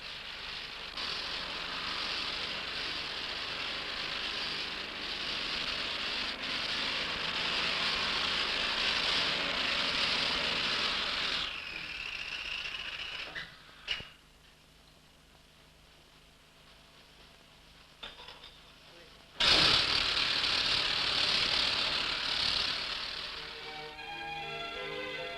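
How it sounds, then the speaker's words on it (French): Small compressed-air motor driving a little mine loading machine in an iron ore gallery, a loud steady hissing roar for about twelve seconds, then near quiet with faint clanks, then a second loud burst of air noise tapering off. "cette petite machine est actionnée par un moteur à air comprimé"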